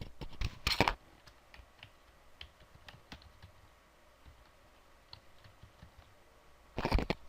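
Typing on a computer keyboard: faint, scattered key taps in a quiet room, with denser bursts of clattering keystrokes at the start and near the end.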